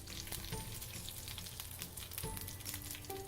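Mustard seeds, dried red chillies and curry leaves fry in oil for a Kerala-style beetroot kichadi. The sizzle is faint, steady and crackling, with scattered pops and a few light clinks of a utensil.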